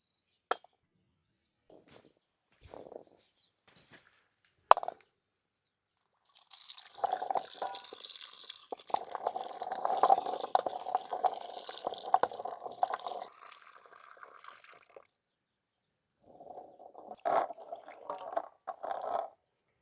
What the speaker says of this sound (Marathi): उंबरं पाण्यात दोन चार वेळा खळाखळा खंगळून घ्यायची व्यवस्थित स्वच्छ करून घ्यायची